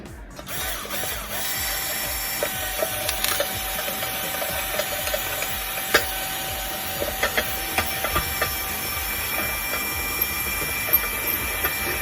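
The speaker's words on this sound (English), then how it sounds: "I'm going to take my cordless screwdriver and proceed to tighten" A cordless screwdriver set to forward tightens a fitting against a glass orb for an amber garden glass flower, giving a steady mechanical whir with repeated ratchet-like clicks and no voices.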